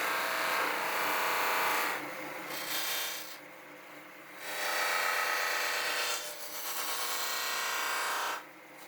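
Abrasive sanding and polishing-machine work stripping clear coat and graphics from an aluminum motorcycle fuel tank, a steady broad rasping that comes in several sustained passes separated by brief lulls, close and fairly loud with no talking.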